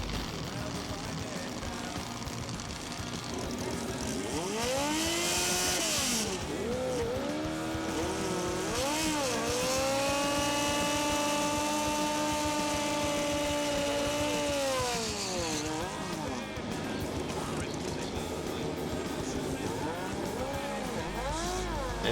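Drag racing motorcycles built on Suzuki GS1000 and GSX 750 bases at the 2008 Central Nationals: loud engines rev up and down in rising and falling sweeps and hold high revs, with a commentator talking over them.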